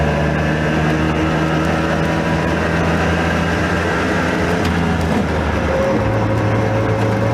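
A Messerschmitt KR200 Cabriolet microcar driving along, its small engine droning loud and steady with a brief grinding crunch as a gear is changed, and the engine note shifting lower near the end.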